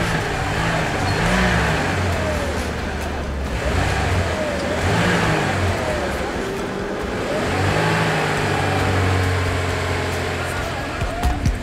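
On a hillside road up toward Lalibela, a car with engine trouble revs in rising and falling surges, loud and close, while voices talk underneath.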